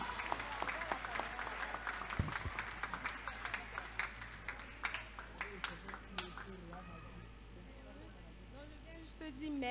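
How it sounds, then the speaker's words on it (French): A church congregation at a French-speaking worship service breaks into sustained applause, many hands clapping in a dense rhythmic wash that slowly fades, with voices mixed in. "Acclamez pour Jésus-Christ"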